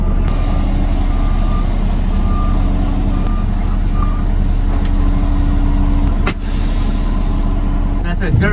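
A 2019 Kenworth super dump truck reverses with a steady, repeating backup beeper over loud diesel rumble, with a brief air-brake hiss near the end; no one speaks.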